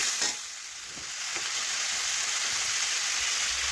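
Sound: spice paste frying and being stirred in a pan

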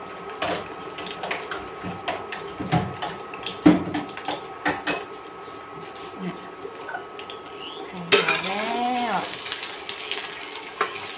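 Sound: frying omelette with shallots

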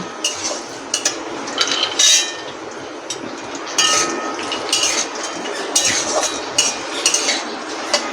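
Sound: pistachios being fried and stirred in a pan

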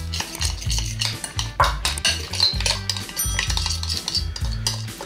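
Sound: stirring marinade in a bowl with a teaspoon

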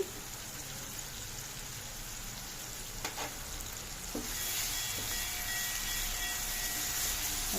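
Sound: gongura chicken masala frying in a pan

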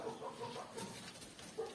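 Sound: chickens and rooster clucking in a coop

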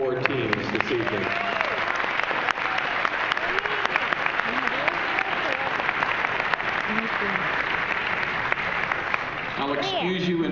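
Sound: audience applause for teams

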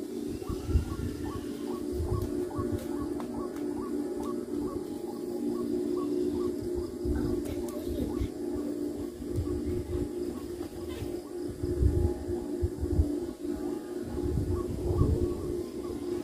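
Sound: kite flutes whistling loudly in the night sky

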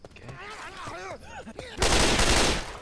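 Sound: gunfire hitting teammate in Left 4 Dead 2 video game

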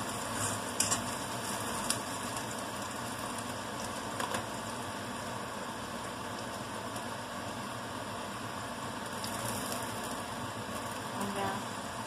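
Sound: ginger garlic paste frying with fried onions

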